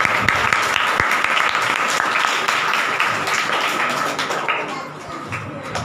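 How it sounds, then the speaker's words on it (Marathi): A church congregation claps loudly and continuously for the Lord, a dense roar of many hands that fades slightly near the end, with occasional voices under it. "हालेलुया जोरात प्रभूसाठी टाळी वाजवा आपण."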